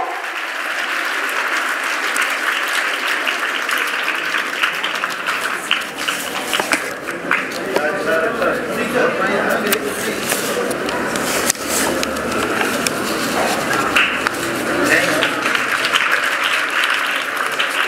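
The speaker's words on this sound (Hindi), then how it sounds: "जोरदार तालियां हो जाए बच्चों" Schoolchildren at a Children's Day celebration in a girls' gurukul school applaud a principal being honoured, a long, loud, continuous wash of many small hands clapping, steady from start to finish.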